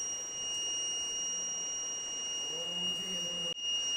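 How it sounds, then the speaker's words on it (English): A steady high-pitched electronic tone from a vehicle accident-detection buzzer sounds continuously, a shrill drone with faint background noise and a brief cutoff near the end. "the buzzer will be ringing like this"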